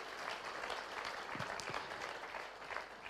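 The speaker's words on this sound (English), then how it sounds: "Give these guys a round of applause." An audience in a church setting applauds steadily, a quiet and fairly distant patter of many hands clapping with no voices over it.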